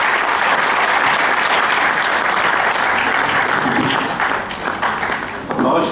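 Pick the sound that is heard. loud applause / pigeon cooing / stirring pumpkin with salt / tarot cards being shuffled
loud applause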